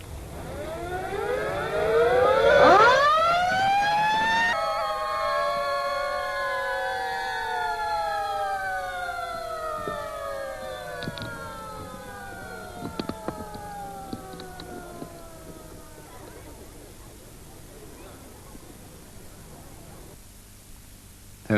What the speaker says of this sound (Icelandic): sírenur voru þeittar í kveðjuskyni.